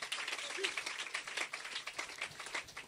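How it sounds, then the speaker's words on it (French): A church congregation claps for the Lord during a bilingual French and English service, a steady patter of many hands heard faintly from some distance, without a break. "Can someone give a hand of clap for the Lord?"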